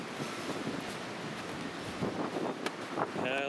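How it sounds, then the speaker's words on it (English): Strong storm wind buffeting the microphone in a backyard, a continuous rough roar with gusty swells, loudest in bursts near the end, and no talking. "Hard to talk when I got the wind blowing in my face."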